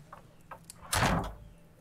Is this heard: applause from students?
no